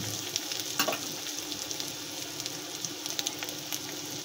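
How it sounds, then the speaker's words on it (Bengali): Water poured into fried spice paste for a lentil malai curry sets off a steady, close hiss and crackle of sizzling in the pan, with occasional light utensil taps. "এবার আমরা পরিমাণ মতন জল দিয়ে দেব।"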